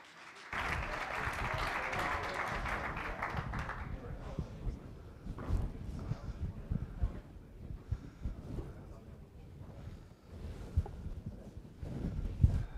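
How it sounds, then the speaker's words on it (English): An audience at a research presentation applauds after a speaker is introduced, a burst of clapping that fades within a few seconds into scattered rustles and faint room noise. "So please give him a round of applause."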